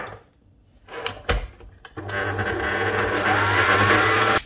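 Sugar and pistachio paste being mixed into madeleine batter, a few knocks and clatters of the bowl followed by a steady, loud whirring of mixing that runs to the end.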